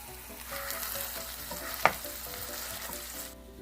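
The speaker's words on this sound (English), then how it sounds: "So we'll cook this up until the meat is browned." Ground chuck hamburger with minced garlic and chopped onion frying in a pan, a steady soft sizzle with one brief stir or clink midway, quiet and close.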